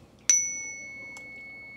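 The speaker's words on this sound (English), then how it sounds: "I'm going to hit the chime and I want you to listen really carefully" A single chime is struck in a classroom, a bright clear ring with a sustained pure tone that slowly decays over more than a second, heard alone in a quiet room.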